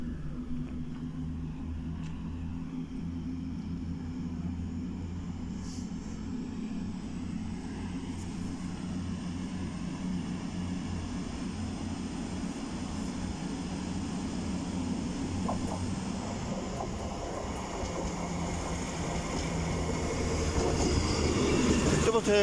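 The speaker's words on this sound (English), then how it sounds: "the cross country service from Glasgow Central to Plymouth" A CrossCountry train running from Glasgow Central to Plymouth passes through Darlington station, its low rumble steady at first, then growing louder and nearer toward the end.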